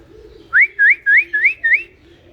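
A man whistles five short, evenly spaced rising notes close by, clear and loud against a faint low background, with a soft cooing bird call underneath.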